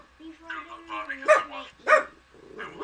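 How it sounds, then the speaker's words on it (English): A dog gives two sharp, fairly close barks with whimpering yips between them, mixed with people talking in a home. "There comes the dog."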